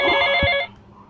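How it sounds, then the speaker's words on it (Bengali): A phone ringtone for an incoming call, a short, loud, tonal burst that rings for just over half a second and then cuts off abruptly into quiet. "দাঁড়াও তো, আমার একটা কল আসছে।"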